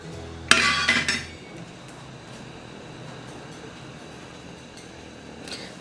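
A metal pot flipped over while cooking sabudana poda pitha, giving a short burst of bright metallic clinks and clatter, then quiet room tone.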